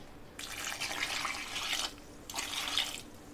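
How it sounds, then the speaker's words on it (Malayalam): Water is poured into a pot of Kerala sambar in two splashing bursts with a short pause between, close and fairly quiet. "ഇനി ഇതിലേക്ക് നമുക്ക് ആവശ്യത്തിനുള്ള വെള്ളം ചേർത്ത് കൊടുക്കാം"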